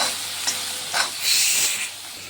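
Tomatoes with salt sautéing and being stirred in a pan, a steady close sizzle with a few soft scraping strokes and a brief louder hiss of steam midway, no talking.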